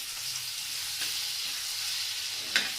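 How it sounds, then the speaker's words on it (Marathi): Garlic sautéing in a pan: a constant, even sizzle with a couple of brief utensil taps, close and moderately loud, with no voices. "लसूण हलका परतला"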